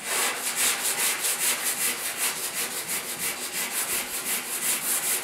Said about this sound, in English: Time to sand down the little pinholes that were repaired. Now just use this 150 grit